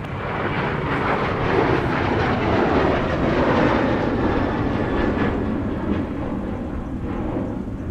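An airplane takes off from runway 30 right at Minneapolis–St. Paul Airport, its engines making a loud, steady broadband roar that holds for the whole stretch with no talk over it.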